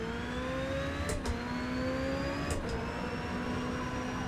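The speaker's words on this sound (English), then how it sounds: "I feel like we're revving it maybe slightly early, aren't we?" A Ferrari engine in the racing game Forza holds a steady high whine, rising gradually in pitch, with two brief gear-shift dips along the way.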